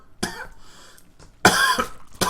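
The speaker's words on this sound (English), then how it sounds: "I will now cough before giving you further analysis." A commentator at a StarCraft 2 match coughs in a few close, harsh bursts, with a brief pause between the first cough and a louder pair at the end.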